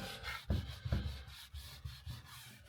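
Old wood being rubbed clean of grime and a black mark, a door among the pieces, giving repeated close scrubbing strokes in an uneven rhythm of soft abrasive swishes with no talk.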